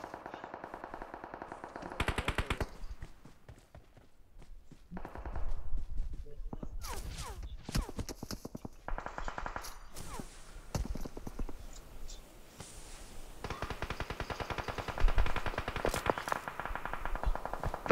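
Gunfire in the mobile battle royale game BGMI, with bursts of automatic fire and single shots spread across the clip at varying distances, some loud and close, some distant, while players talk over it.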